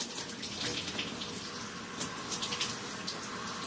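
Shower water runs steadily behind a shower curtain, a continuous hiss and patter that stays even and fairly close throughout, with no voices.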